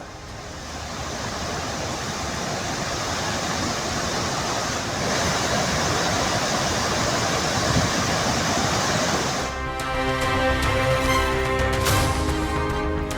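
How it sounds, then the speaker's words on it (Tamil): Flood water pours over Meenvettiparai waterfall near Srivilliputhur, a loud, steady rushing roar for about nine seconds before it gives way to a sustained tonal sound. "விருதுநகர் மாவட்டம் ஸ்ரீவில்லிபுத்தூர் அருகே உள்ள மீன்வெட்டிப்பாறை அருவியில் கொட்டும் வெள்ளம்"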